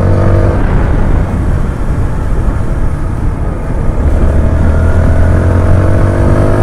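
A loud TVS Apache 160 4V motorcycle engine drones steadily while riding, its pitch shifting as the rider changes speed, with heavy wind rush throughout.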